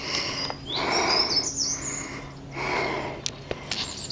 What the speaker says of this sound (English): Singing birds, singing birds.